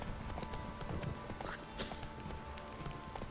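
Roach the horse from The Witcher 3 gallops in a short burst of quick, soft hoofbeats, fairly quiet and mixed with ambient game sounds, with no voices.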